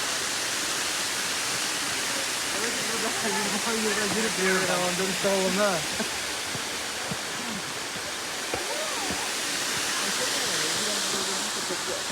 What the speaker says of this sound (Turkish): Evet Kuzalan Şelalesi.